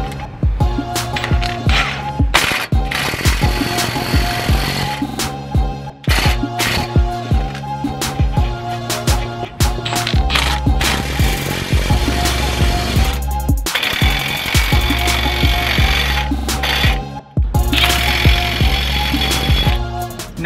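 An impact wrench drives nuts onto new wheel studs on a Nissan 350z, using washers from the brake caliper bolts. The wrench fires in repeated loud, rattling hammering bursts with short pauses between them over about twenty seconds.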